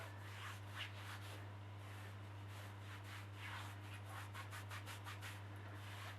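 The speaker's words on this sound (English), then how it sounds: "And again, rub it towards the end to activate the glue." Kinesio tape being rubbed along the calf to activate its glue, a soft quick repeated swishing friction over a steady low hum, faint and close.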